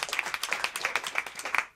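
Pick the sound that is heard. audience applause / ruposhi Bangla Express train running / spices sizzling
audience applause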